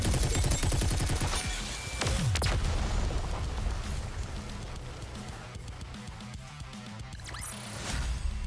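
Heavy gunfire fills the battle in Goddess of Victory: Nikke, with dense rapid bursts, booming impacts and crashes overlapping continuously at loud, close range.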